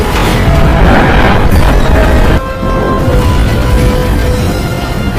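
Cinematic CGI explosion destroying a harbour after a rocket launcher strike, a loud dense rumbling roar with crashing debris that briefly dips then surges again and rumbles on.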